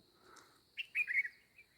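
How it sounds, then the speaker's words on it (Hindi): A small bird chirps outdoors in the hills of Ranikhet, Uttarakhand: a quick, quiet cluster of bright tweets with a faint steady whine behind them and no talking. "चिड़िया दिखाता हूँ आपको, देखो चिड़िया।"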